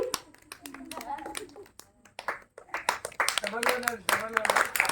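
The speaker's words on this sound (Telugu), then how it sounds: "సో ఒకసారి వర్షిత్కి గట్టిగా క్లాప్స్ చేద్దాం." A small crowd claps for a child at a VBS celebration, with scattered hand claps that swell into fuller applause toward the end, mixed with people talking nearby.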